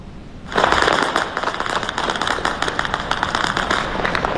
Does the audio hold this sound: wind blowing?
no